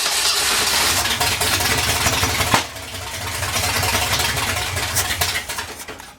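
A 1964 Ford F100 4x4 that sat for over 30 years cranks over with a steady, rapid churning that cuts off abruptly partway through, then resumes more faintly, heard up close.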